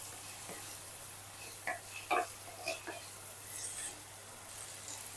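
Paneer pieces frying in oil on a low flame, a soft sizzle with a few scattered stirring clicks and scrapes, close but faint.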